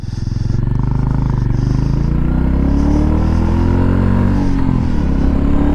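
A Royal Enfield Meteor 350's 349cc single-cylinder, single overhead cam engine runs close up with a low thumping throb that swells and falls as it is revved, loud and continuous throughout.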